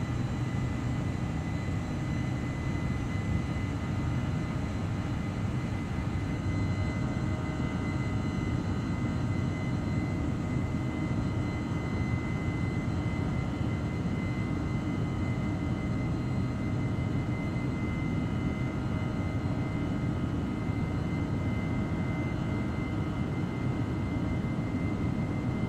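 Steady, loud roar of British Airways Airbus jet engines with throttle increased, heard from inside the cabin as a continuous broadband rumble with a faint whine layered above, unbroken throughout and with no voices.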